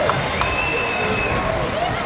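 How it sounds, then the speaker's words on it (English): A crowd at a 1996 Region 8 wrestling finals cheers and applauds after a match, a dense, steady roar of voices and clapping that fills the whole stretch at an even loudness, with a commentator's voice faintly underneath. "the crowd showing their appreciation"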